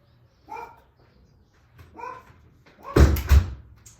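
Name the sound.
dog barking at home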